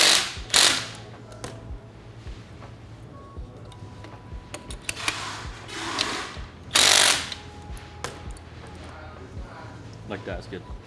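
A bolt and nut are tightened on the front knuckle of a drift kart with a hand tool, giving irregular metallic clicks and ratcheting bursts at close range beside a steady low hum.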